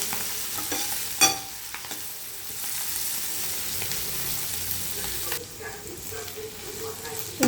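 Boiled drumstick leaves are stirred into a hot oil tempering with fried onion, giving a steady close sizzle with scraping stirs and a sharp clatter near the start.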